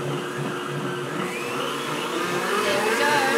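A blender whirring continuously as it mixes a sugar-free, dairy-free icing with vanilla, a loud steady motor drone that rises slightly toward the end.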